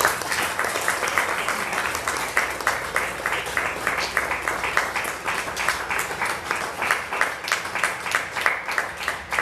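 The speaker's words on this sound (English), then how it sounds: "Can we give them a round of applause?" An audience gives a round of applause after a talk, steady clapping with distinct rhythmic hand claps standing out, moderately loud and even throughout.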